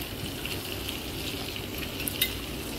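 Crispy fried milkfish (bangus) stirred in a pan, giving a faint, steady sizzle of frying with light scraping and a small clink near the end.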